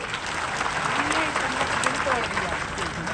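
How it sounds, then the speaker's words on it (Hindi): An audience at a talent award ceremony in Bhopal breaks into sustained applause, a dense wash of clapping with crowd murmur and speech mixed underneath. "एक बार उनके लिए ताली बजा दो।"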